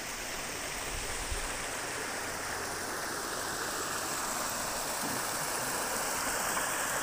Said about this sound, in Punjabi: ਉਹ ਚਸ਼ਮੇ ਦੇ ਪਾਣੀ ਇਹਦੇ ਨਾਲ ਹੀ ਰਲ ਜਾਂਦਾ